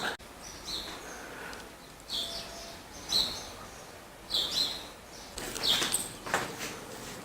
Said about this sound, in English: You hear the birds when you wake up.